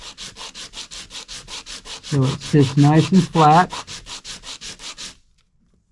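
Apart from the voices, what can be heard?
sanding wood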